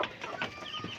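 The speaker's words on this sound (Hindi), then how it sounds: "ये माशाल्लाह बहुत प्यारा मुर्गा है।" An Aseel rooster clucks in a few short, soft bursts nearby, with no talk over it.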